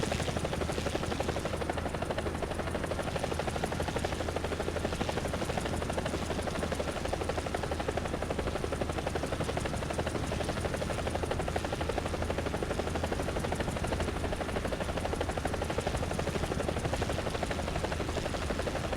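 In the video game War Thunder, a BO 105 helicopter flies with a continuous close rotor thrum and a buzzing engine drone, steady and unbroken throughout, with no voices over it.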